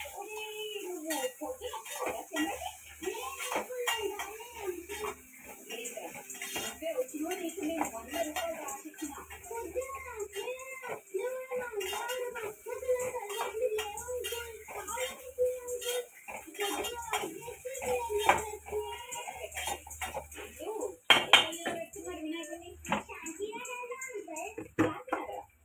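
A utensil scrapes and clinks against a pot while boiled taro root curry is stirred, with light, irregular knocks throughout and a voice talking over most of it.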